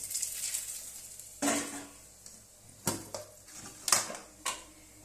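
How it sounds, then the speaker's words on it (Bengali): Three bay leaves and whole garam masala dropped into hot oil for egg pulao: a faint sizzle under several sharp metallic clinks and clatters of a utensil against the pan, close and moderately quiet. "এবার ওই একই তেলে আমি 3টে তেজপাতা আর কিছু গোটা গরম মশলা দিয়ে দেবো"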